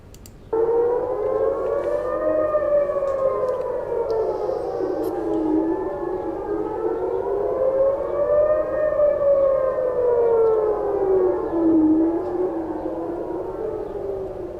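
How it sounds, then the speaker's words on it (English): Civil defense air raid sirens wail across Tel Aviv, loud and sustained, with several overlapping tones rising and falling slowly in long sweeping cycles. "We've got some footage from sirens across Tel Aviv right now,"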